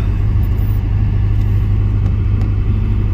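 A pickup truck driving along a forest road in a southern Indiana state forest in fall, its engine giving a steady, loud low rumble with continuous road noise from start to end.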